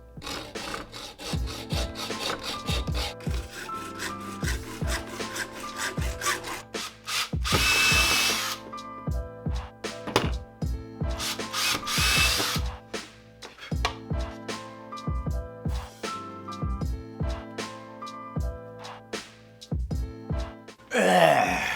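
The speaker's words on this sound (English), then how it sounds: "we're gonna drill holes in the ends of this guy" A power drill whines in short bursts while drilling holes in the ends of a crossbow part, interrupted by clunks and handling knocks, with two longer, louder grinding stretches partway through.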